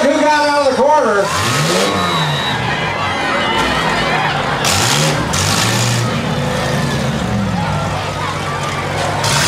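Demolition derby cars rev their engines at a county fair six-cylinder class heat, with repeated rising and falling engine roars and a crowd's noise, under an announcer's commentary.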